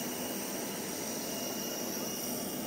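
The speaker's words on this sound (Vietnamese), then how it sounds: "Máy bay." Jet airplane at Tuy Hoa airport, just after rain, producing a steady broadband engine roar that holds evenly throughout without pause.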